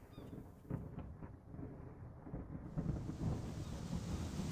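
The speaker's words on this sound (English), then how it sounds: "When you watch it, it'll start raining." Rain and thunder in the video game Escape the Pacific: a steady rain hiss building in strength, with low rolling rumbles of thunder underneath, fairly quiet and without speech.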